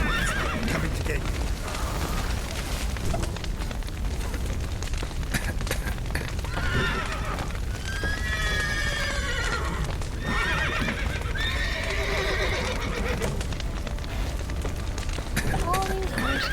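Horses in The Witcher 3 video game whinny and neigh repeatedly while hooves clop steadily, set amid loud rumbling booms and crashing of a collapsing building, with voices shouting over the din.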